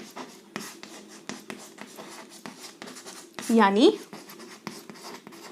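A marker squeaks and scratches on a board in short strokes as a blood-group table is written out, heard under a teacher's speech, with one louder squeaky stroke standing out.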